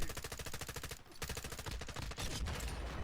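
Rapid automatic gunfire in Warzone 2 rattles out in sustained, loud bursts with a steady rhythm and barely any pause, close and dense throughout.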